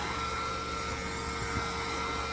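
Steady, loud whirring roar of a vacuum cleaner running close by, constant throughout with no other sounds.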